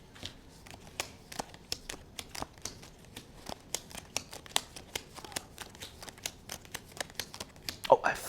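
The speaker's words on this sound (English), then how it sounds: "I'm gonna start turn cards over one by one" Playing cards are turned over one by one on a table, giving quiet, crisp snaps and flicks at an irregular pace, with one sharper snap near the end.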